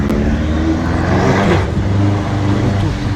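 BMW M5 accelerating hard in the rain, its engine droning loud and close with a rising whoosh of turbo boost over a steady mechanical growl.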